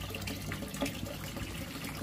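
Leftover water poured into a koi pond, a steady close splashing stream over the full two seconds.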